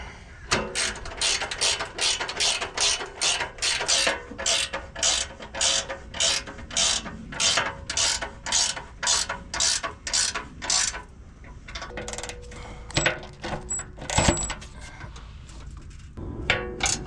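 Ratchet snugging the four center nut-and-bolt sets on a Hooke Road aftermarket bumper install, a long run of fast, even clicking strokes, loud and close, broken by a few short pauses and heavier clanks near the end.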